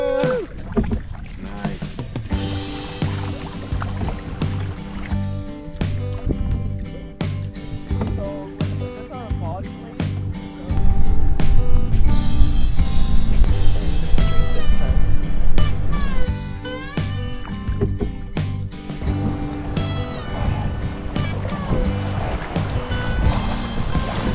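A canoe is paddled on the Stikine River in remote northern British Columbia wilderness, with rhythmic paddle strokes and water splashing throughout under loud music, growing louder midway.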